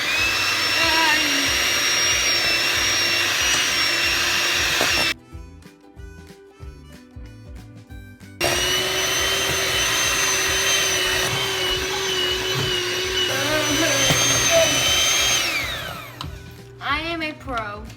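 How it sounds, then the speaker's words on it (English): Electric hand mixer whirring through cookie dough ingredients, a loud steady motor drone that stops briefly, then resumes, with a voice talking over it near the end. "Now it's time to mix all these ingredients up with the hand mixer for about 2 minutes."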